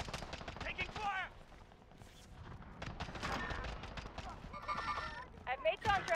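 Rapid gunfire crackles through a Call of Duty match on Fortune's Keep, with bursts and single shots near and far while voices talk over the action.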